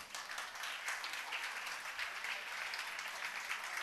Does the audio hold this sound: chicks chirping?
no